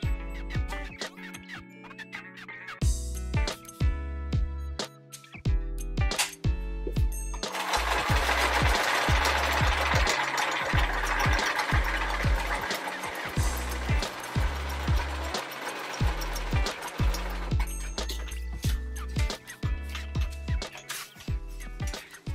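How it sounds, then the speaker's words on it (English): A sewing machine stitching quilt pieces runs in rapid bursts of rhythmic mechanical chatter, starting and stopping repeatedly, with one longer continuous run in the middle. It sounds loud and close, and no one talks. "And now we're going to sew it."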